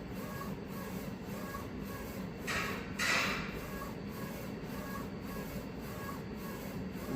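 A 13-inch wide DTF printer prints with a steady mechanical whir and regular rhythmic carriage passes, with two brief louder hissing sweeps partway through.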